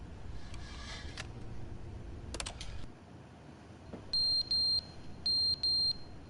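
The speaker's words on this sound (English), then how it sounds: "the clock fell down, and it's beeping because it's low battery." A fallen clock in The Stanley Parable sounds a low-battery alert of repeated electronic beeps in two short pairs, clear and steady. A few scattered keyboard clicks and a low hum come before the beeps.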